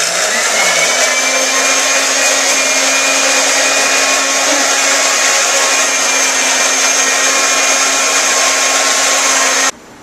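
A loud, steady high-pitched kitchen appliance motor whine runs continuously, like a blender, then stops abruptly just before the end.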